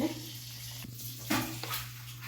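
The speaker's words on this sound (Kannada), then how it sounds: "ಈಗ ಇದನ್ನು ನಾನು ಚೆನ್ನಾಗಿ ಮಿಕ್ಸ್ ಮಾಡ್ತಾ ಇದ್ದೀನಿ" Chicken biryani ingredients being mixed in a pot, giving close scraping and stirring strokes with a couple of louder scrapes over a steady low hum.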